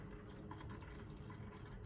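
Water poured into the filter of a Takeya cold brew coffee maker, a faint continuous splashing trickle with no talking.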